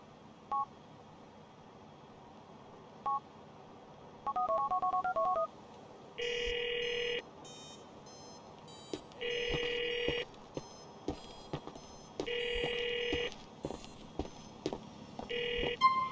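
Phone keypad tones and electronic ringing in the video game GTA IV: a few short dial beeps, then a repeating pattern of paired ring bursts, each lasting about a second with brief gaps between them, clear and steady over low game ambience.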